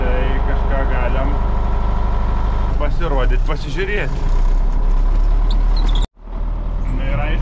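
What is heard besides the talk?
modern tractor engine running in winter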